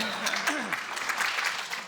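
An audience at an annual meeting and luncheon claps in a steady, dense round of applause, with a voice heard briefly near the start.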